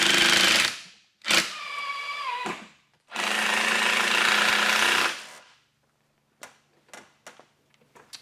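A power drill drives screws into a wooden Amish shed kit panel in several loud, whining bursts of a few seconds each, separated by short pauses, followed by light tapping and clicks.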